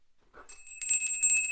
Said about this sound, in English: Chakra bell.